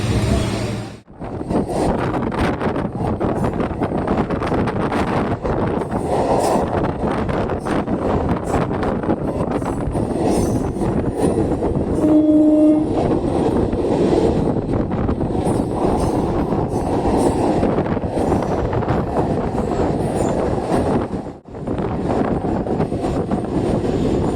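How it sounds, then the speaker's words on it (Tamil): A suburban train runs from Velachery toward St Thomas Mount in Chennai, giving a steady, loud rumble and wind roar that continues for the whole stretch with a couple of short dips, no talk over it. "வேளச்சேரிலேருந்து மவுண்ட்டுக்கு பார்த்திங்கன்னா ஃபஸ்ட் டைம் நம்ம இந்த ட்ரெயினில் கிளம்புறோங்க"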